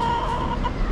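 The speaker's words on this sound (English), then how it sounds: "There are a few roosters around." A rooster's call rings out close by in an alleyway in Malate, a brief sustained crow lasting under a second.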